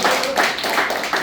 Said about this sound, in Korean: 당원 간담회를 힘찬 박수로 시작하겠습니다